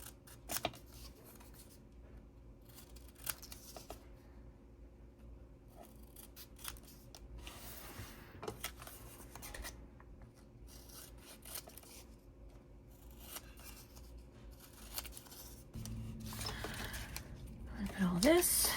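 Scissors snipping paper pieces for a mosaic journal page, a few short dry cuts scattered through quiet handling and rustling, with a person talking softly at times.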